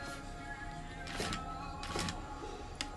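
Sewing machine running a safety seam on a small insulated pouch, short mechanical whirring bursts of stitching with pauses between, close and moderate.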